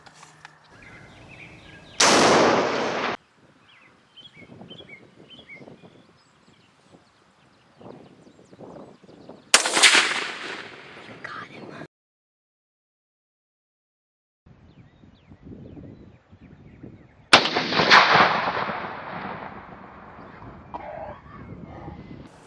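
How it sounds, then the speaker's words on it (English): Rifle shots from a .277 Wolverine fired at a groundhog in an outdoor field, three loud sharp reports spread several seconds apart, each followed by a short decaying echo, with quieter rustling and handling noise between them. "the second shot I hit him again and took him down as he went out frame"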